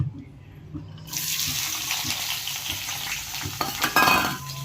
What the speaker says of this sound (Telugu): ఇప్పుడు మనం ఆనియన్స్ వేసుకుందాం కడాయిలో